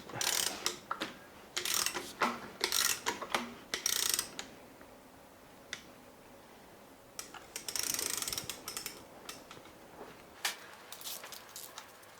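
Tools tightening the last screws on a BMW S85 V10 engine during Vanos and cam timing work: bursts of rapid ratchet clicking alternate with pauses and a few isolated clicks, close and moderately loud, no talking.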